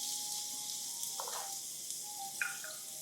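Onions, shallots and garlic hitting hot canola oil in a pan, a faint steady hiss with a couple of brief bursts of sputtering, quiet and alone without voices.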